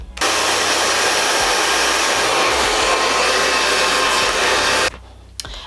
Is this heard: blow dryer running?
yes